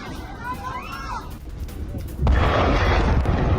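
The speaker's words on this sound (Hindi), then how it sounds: "धमाकों में तबाह हमास का ठिकाना दिखाइए जरा शॉट्स के साथ" Deep rumbling booms and blasts from an Israeli air strike on a Hamas hideout in Gaza play under excited talk, with a loud, heavy explosion swelling partway through.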